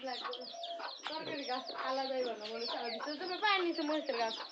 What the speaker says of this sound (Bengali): ওই যে মুরগি গেল বাইরে গেল বাইরে গেল